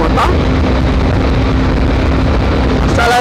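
A 2021 Honda CB 500X motorcycle accelerates hard on the PE009 highway, its engine a loud, steady roar mixed with heavy wind rush throughout, without any voices.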